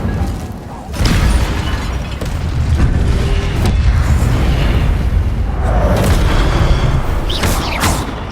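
An Incendio fire spell in Hogwarts Legacy bursts with a loud whooshing blast and keeps roaring in a dense, sustained rumble. Sharp crackles and impacts cut through near the end.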